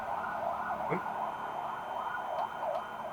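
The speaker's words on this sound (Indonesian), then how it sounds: "Ngeliat keluar ambulan itu kan." An ambulance siren wails in a repeating rising-and-falling pattern at moderate distance, steady throughout, with a brief voice breaking in partway through.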